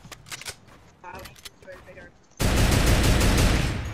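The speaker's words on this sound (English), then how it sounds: "Oh, they're shooting us." Rapid gunfire in a Fortnite Battle Royale squads match bursts in loudly and continuously halfway through, after a stretch of voices chattering over quieter game sounds.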